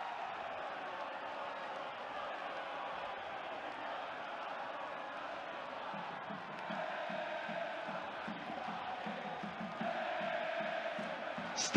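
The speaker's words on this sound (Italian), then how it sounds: "Straordinario entusiasmo dei tifosi ospiti" About 1,500 away fans of Catanzaro cheer a Martinelli goal that puts their team 2-0 up at Pescara, a distant, steady roar of the crowd that swells with rhythmic chanting, under faint commentary.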